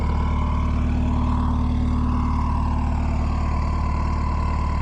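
Cold Subaru WRX engine idling while warming up, a steady low rumble with a constant droning hum, loud and even from start to finish with no talking.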